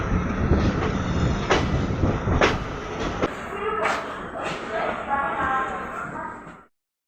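The Hyderabad Express rumbles into Chennai Central station, with rolling wheel noise and rattling clatter and a few sharp metallic clicks, while people talk nearby.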